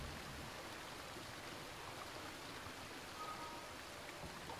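A steady, even rush of falling water from a waterfall in the video game Never Alone, a continuous hiss-like roar that stays at a constant level and plays alone without talk.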